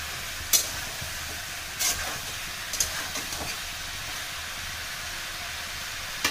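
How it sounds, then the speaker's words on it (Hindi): Rugra mushrooms go into chicken frying in a pan, giving a steady, even sizzle and hiss with a few sharp crackles and pops scattered through, heard close with no talking. "चिकन थोड़े भून गए हैं, अब इसमें मैं रुगड़ा डाल रही हूँ।"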